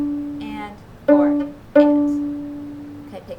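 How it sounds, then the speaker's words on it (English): Violin strings are plucked pizzicato in a slow eighth-note rhythm, a few distinct resonant plucks ringing and decaying close up, with a faint quiet sound near the end. "I'm going to play it on the violin because I have that handy right now."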